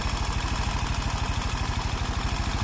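A carbureted motorcycle engine idles steadily nearby, its even, rapid chugging pulse holding constant throughout.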